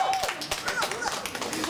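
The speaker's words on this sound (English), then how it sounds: "Hold your applause." Audience applause at a Christianity versus naturalism debate, a short burst of scattered clapping with crowd noise that continues under a speaker introducing a debater.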